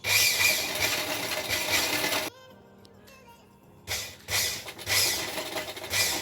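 A sewing machine stitches along the bottom hem of a saree, running in two loud, fast mechanical bursts of needle clatter split by a short quiet pause with faint clicks, close by and with no talk.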